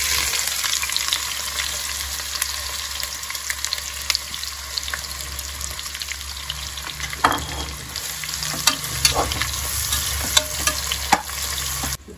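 Two large onions, sliced lengthwise, sizzle loudly in hot oil for a mutton biryani, a dense continuous crackle with scraping spoon strokes coming more often toward the end.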